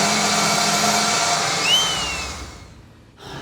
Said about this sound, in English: That's the sound of the spinning wheel whizzing round and round